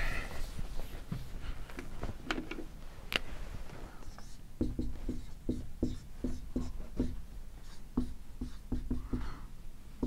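Chalk taps and scrapes across a lecture board in an economics class as the board is erased and written on again. The strokes are faint and uneven, with a run of short, rhythmic marks in the second half and no voice over them.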